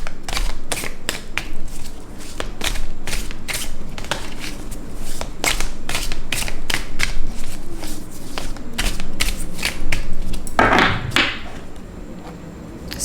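Tarot cards being shuffled and handled close up, a rapid run of crisp flicks and riffles in irregular bursts, no talk.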